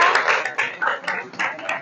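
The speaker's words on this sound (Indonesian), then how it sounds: "tepuk tangan dong buat Ezra dan Kanaya" A classroom group clapping for two students, short rhythmic bursts of hand claps that rise and fall in a fairly even pulse, close and moderately loud.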